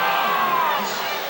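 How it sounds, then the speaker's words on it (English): Arena crowd chanting defense at a 1991 Bulls vs Pistons Eastern Conference Finals basketball game, a loud sustained mass of voices filling the building throughout. "Chant of defense from the crowd"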